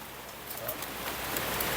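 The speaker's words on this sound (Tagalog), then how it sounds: "Ulan. Ulan." Steady rain patters and hisses on a surface nearby, a constant fine drumming with a few louder drips standing out.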